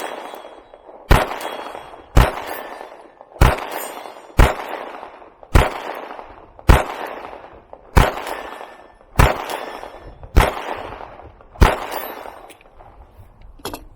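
A CZ P10c pistol fires at a target, about a dozen sharp, loud shots at a steady pace of roughly one per second, each ringing briefly before the next, with no talk.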